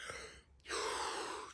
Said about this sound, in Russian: Полный вдох.